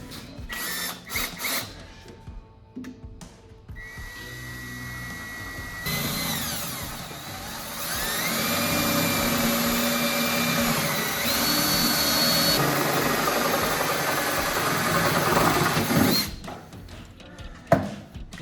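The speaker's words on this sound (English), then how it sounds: "You flat out go through some drill bits drilling through this bed" A few clicks and clatters, then a power drill runs long and hard through a metal truck bed, its whine rising and grinding up close before cutting off.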